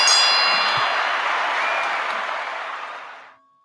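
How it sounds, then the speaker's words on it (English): A bell is struck once with a bright, ringing clang for a guest on a boxing talk panel. Its shimmering tone sustains and slowly fades over about three seconds before cutting off, with a faint crowd murmur underneath. "let's hit the Ali Bell for him"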